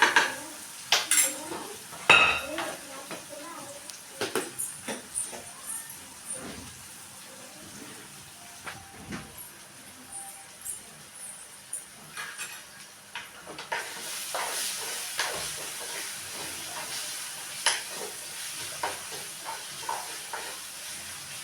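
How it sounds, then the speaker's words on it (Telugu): Ginger garlic paste fries in a pan, a soft hiss under repeated clinks and scrapes of a spoon stirring against the metal, all fairly quiet and close. "దీన్ని అయితే పచ్చి వాసన అయిపోయేదాకా అయితే వేయించుకుందాం."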